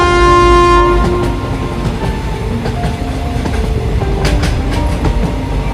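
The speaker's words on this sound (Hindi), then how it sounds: "इधर ट्रेन की रफ्तार भी धीरे धीरे कम होती जा रही है।" A cartoon train rumbles along its tracks, opening with a loud horn blast that cuts off after about a second, then steady clattering and rolling as it gradually slows, with no voices.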